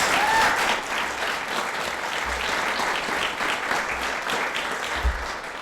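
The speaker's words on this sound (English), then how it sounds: "let's have one more collective round of applause for our future educators" Collective applause for future educators at a Future Educator Signing Day ceremony in 2023, with a large crowd clapping continuously for several seconds at a steady, moderate level.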